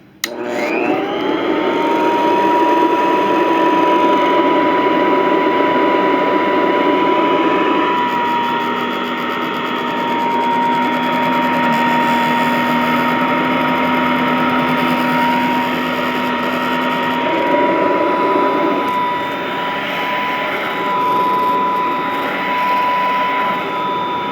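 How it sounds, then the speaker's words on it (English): A vintage Royal 153 vacuum cleaner switches on and runs steadily, its loud motor whine rising at startup and holding a high, even pitch close by, with a brief drop in tone partway through and no talking. "these are great vacuums, and I just love the way it starts up"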